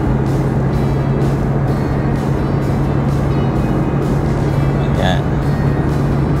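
Rush hour traffic on the NLEX-SLEX connector in Manila rumbles as a steady dense wash of engines and tyre noise, with a low constant hum from nearby vehicles and a brief higher squeal near the end.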